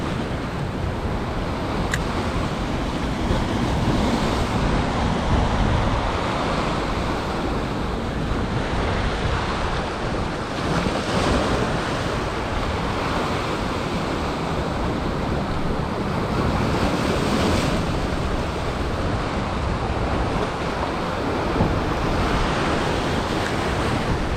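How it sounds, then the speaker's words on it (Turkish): Sea waves break against rocky shore stones in a continuous loud wash of surf, with wind buffeting the microphone throughout. "şu burun taşlara çarpan dalga daha şiddetli buralara çarpıyor"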